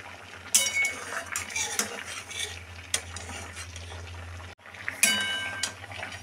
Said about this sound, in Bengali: এবার মা তুলে নিচ্ছে পটলগুলো।